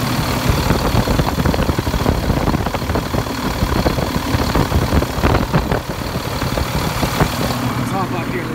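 An International 4300 flatbed truck engine runs with a rough, rumbling idle and knocking pulses, while a person talks over it.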